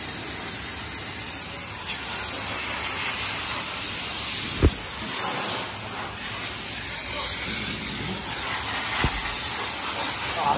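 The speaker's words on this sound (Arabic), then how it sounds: "هذا البخار؟ هيا البخار" A steam cleaner is used to wash a car, giving a loud, steady hiss that fills the whole stretch, with a couple of brief thumps partway through.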